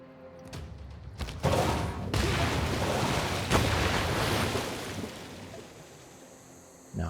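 A unit fires on the city of Cologne in Civilization VI: a sudden booming blast swells into a roaring, noisy rush lasting a few seconds before fading, followed by a brief thump at the end.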